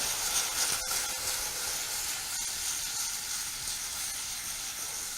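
Carrots, turnips and courgettes sizzle in a pan with an even, moderately loud frying hiss and a couple of faint clicks, with no talk.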